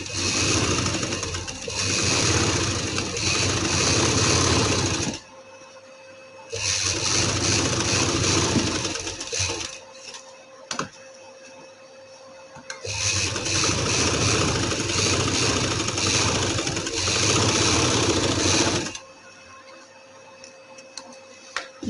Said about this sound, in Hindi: इसके ऊपर मैं इस तरह से सिलाई लगा लूँगी